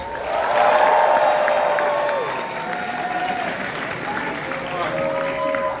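A large audience applauds at a Halloween Horror Nights panel at Universal Studios, loud at first then easing off, with scattered cheers and a voice talking over the clapping.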